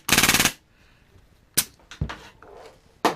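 A G&G/Army L85 airsoft rifle with an HPA engine rips off a short full-auto burst of rapid, closely spaced cracks, followed by a few separate sharp shots, loud and near.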